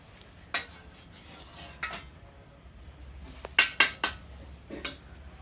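Pot and metal utensils clatter and clink in a home kitchen while milk is heated, a few sharp separate knocks spread out and then a quick cluster of clinks near the end, fairly close, over a quiet background.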